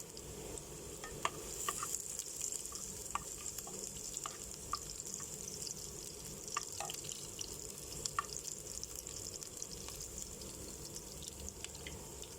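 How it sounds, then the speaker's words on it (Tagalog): Garlic sautés in hot oil for spicy pork adobo, a faint, steady sizzle with scattered sharp crackles and light stirring clicks throughout, close but low in level. "Tayo po ay maggigisa na. Ang una po natin ilagay ang ating bawang."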